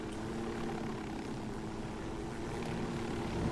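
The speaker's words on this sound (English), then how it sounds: "I just chose to land on the flattest peak I could find that wasn't going to damage my helicopter too much." Helicopter in the video game Ghost Recon Wildlands setting down on a mountain peak: a steady, droning rotor and engine hum, continuous and moderately loud with no speech.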